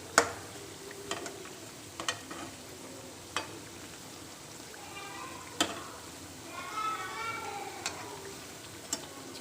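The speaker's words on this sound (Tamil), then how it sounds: "இந்த பக்கம் சர்க்கரை பாகு நல்லா கொதிச்சிட்ருக்கு." Sugar syrup for jamun sweets at a steady rolling boil in a pan: a soft, continuous bubbling hiss, fairly quiet, broken by scattered small ticks and pops.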